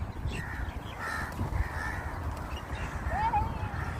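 Crows caw several times over steady background rumble by the Buhairah Corniche in Sharjah on a morning, with a rising call near the end; someone talks softly in between.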